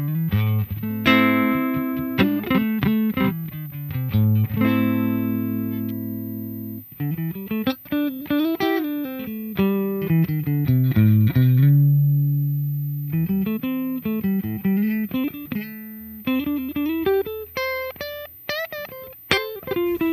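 Clean electric guitar played straight into the amp with no pedals, chords and single-note runs, bright and undistorted, with ringing sustained notes and short pauses between phrases.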